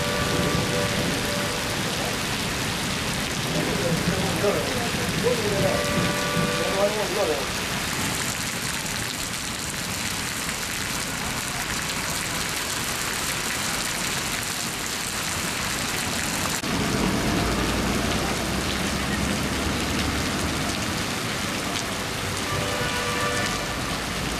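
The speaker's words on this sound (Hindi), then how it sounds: "शहर में शुक्रवार दिन में आई तेज बरसात ने कई इलाकों को भिगो कर रख दिया।" Heavy daytime rain pours steadily over Udaipur city streets, a dense continuous hiss of drops on surfaces that holds level throughout with no voices.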